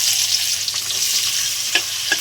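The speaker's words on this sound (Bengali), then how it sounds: "পেঁয়াজটা ভাজা ভাজা করে নেব" Chopped onion frying in oil with cumin, cardamom, cloves, cinnamon and bay leaves for mutton curry, giving a loud, continuous close sizzle with a few soft stirring knocks.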